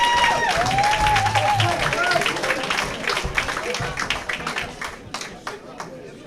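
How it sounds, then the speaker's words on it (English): A boxing crowd applauds after an amateur club bout on a Valentine's Day fight card, dense clapping with some cheering and an announcer's voice over it, thinning into scattered claps toward the end. "keep your applause going for his opponent, Chris Clemens"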